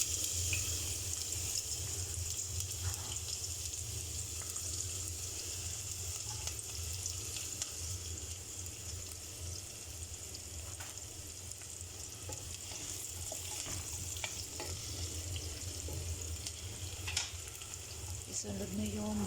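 Onion fries in cooking oil for a Filipino chicken adobo, giving a steady, even sizzle at low to moderate volume with a few faint clinks and scrapes from the pan.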